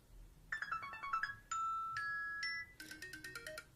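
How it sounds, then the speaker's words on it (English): An iPod Touch 5 on iOS 7 plays a series of short electronic ringtone and alarm previews one after another: tinkly chimes, a sustained two-tone beep, then a bright jingling melody, clear and close. "you can use like the ringtones or the alarm sounds"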